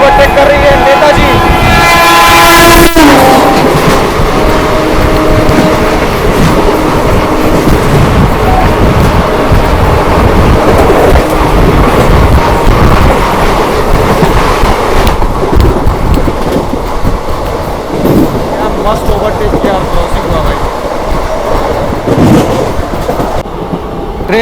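The Netaji Express overtaking a special train waiting on a loop line, with a loud horn blast at the start followed by a long, heavy rolling rumble of passing coaches close by.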